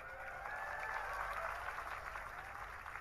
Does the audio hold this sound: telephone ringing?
no